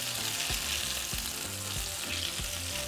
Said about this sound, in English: flip it over and fry the other side